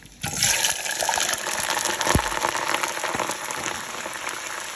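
Potatoes hit hot oil and fry in a pan for a Senegalese spaghetti dish, a sudden burst of loud, dense sizzling that then crackles on steadily up close, with no talk.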